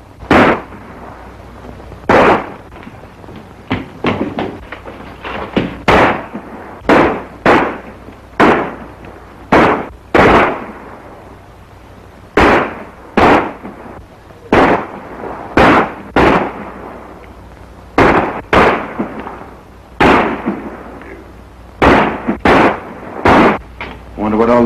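Loud, sharp gunshots crack out one after another, sometimes in quick pairs, with short echoing tails and brief gaps between volleys.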